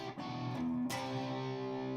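Electric guitar chords are finger-picked with light distortion while a song is arranged for guitar: ringing sustained tones, a quick strum near the start and a brighter attack near one second, all close and alone.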